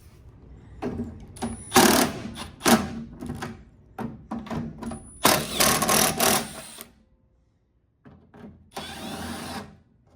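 Power drill unscrewing fan guards and blades during refrigeration maintenance, a series of short whirring bursts of varying length separated by pauses and handling clatter, up close.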